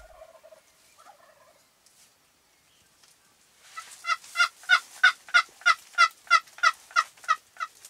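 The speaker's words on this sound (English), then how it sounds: "I can hear a hen chirping" A wild turkey hen calls in a quick series of about a dozen sharp, evenly spaced yelps, fairly clear against quiet outdoor background, preceded by faint softer chirps.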